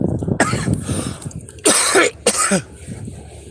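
Several harsh, hacking coughs close by from a smoker, a rough fit followed by two sharp bursts, with throaty breathing between them.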